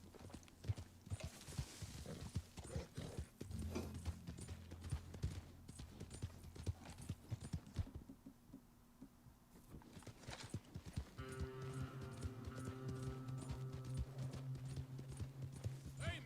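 Horse hooves clip-clop steadily at close range with a mechanical background hum, and a droning tone enters midway, in a setting tied to a Black American Standardbred horse.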